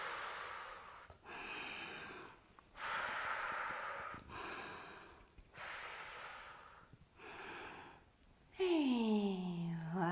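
A child does yoga breathing, alternating slow inhales with long, airy exhales and blown-out breaths in a steady rhythm of about seven puffs, close and fairly quiet, with a brief vocal tone near the end.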